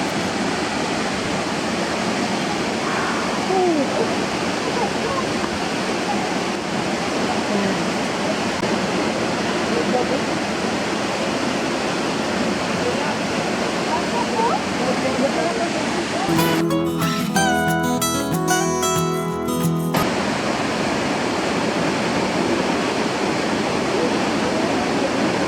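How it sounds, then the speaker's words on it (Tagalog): Canlunggad Falls, a three-tiered waterfall in Pamplona, Negros Oriental, roars as a steady broadband rush of falling water, loud and continuous throughout, with brief background sounds partway through. "They said that this Canlunggad Falls is a three-tiered waterfall."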